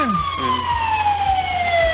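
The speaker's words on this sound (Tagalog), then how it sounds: "Bombero pala yan." A fire truck siren wails loudly and steadily with a slowly falling pitch, passing close by on the road with low vehicle rumble underneath.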